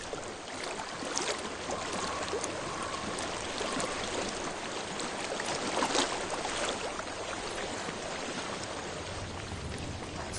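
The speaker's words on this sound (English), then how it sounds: "I hear water. Go to it." Water flows steadily in Hellblade: Senua's Sacrifice, a continuous broad rushing stream that stays even and close throughout, with no breaks.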